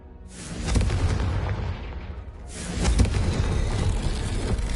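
A Confringo fire spell bursts in Hogwarts Legacy with two loud, booming blasts about two seconds apart, each trailing into a rumbling roar.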